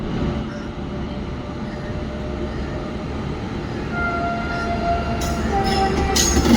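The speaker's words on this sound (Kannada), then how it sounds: "ಮೈಸೂರು ವಾರಣಾಸಿ ಎಕ್ಸ್ಪ್ರೆಸ್ಗೆ ಯಾವ ಇಂಜಿನ್ ಇದೆ ಅಂದರೆ WAG9 HC ಇದೆ, ನ್ಯೂ ಕಟ್ನಿದು." Mysore Varanasi Superfast Express hauled by a WAG9 HC electric locomotive, a loud continuous rumble and clatter of coaches rolling close by, swelling slightly toward the end with faint squeals.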